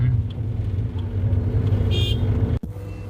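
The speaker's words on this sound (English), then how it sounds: "The traffic here is very colorful." Busy street traffic in Bangladesh, with idling and rumbling car engines close by and short horn toots cutting through, a continuous loud roar that drops abruptly near the end.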